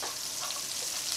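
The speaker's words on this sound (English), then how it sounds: "Then add the chopped garlic to the pot." Chopped garlic sizzles steadily in a pot as it is added for a tapas-style prawn and chorizo dish, a continuous dense frying hiss with no voices.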